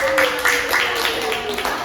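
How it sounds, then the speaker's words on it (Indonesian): Students in a micro-teaching classroom clap briefly for a group, a short burst of scattered hand claps under a steady tone and talk. "beri tepuk tangan kepada kelompok 1"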